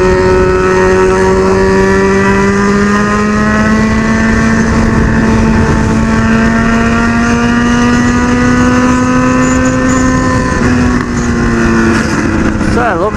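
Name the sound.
Honda CB1000 motorcycle riding at high speed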